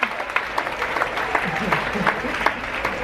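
Scattered applause from an audience at a hypnotist show aboard the cruise ship Celebrity Summit, moderate and a little uneven, with individual claps popping out and some crowd murmur mixed in.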